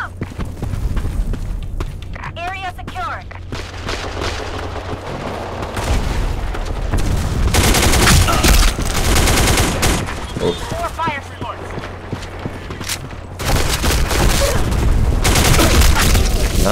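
Gunfire crackles in the online shooter Black Squad during a team deathmatch on the Santorini map, with rapid bursts and heavy booming shots coming close and loud throughout while someone talks excitedly over the action.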